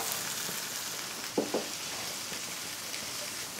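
Onion sizzling in hot oil with garlic in a pan, a soft steady frying hiss with a couple of brief louder pops, for palabok sauce.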